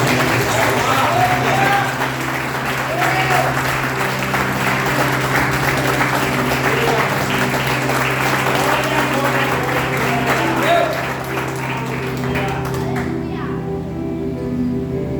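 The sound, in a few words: applause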